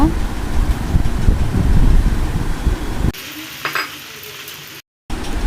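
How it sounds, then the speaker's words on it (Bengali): Pasta frying in a pan with fried egg sizzles loudly and gets stirred for about three seconds. After a sudden cut it quietens to a softer crackle, with a brief dropout of silence near the end. "এবার আমি নেড়ে নিব কিছুক্ষণ। এখন আমি ভেজে রাখা ডিম দিয়ে দিব।"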